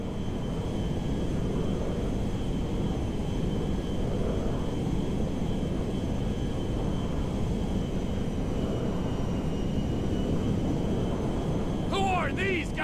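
A jet aircraft flies in Grand Theft Auto V, giving a loud, continuous engine roar that holds steady throughout, with voices talking over it.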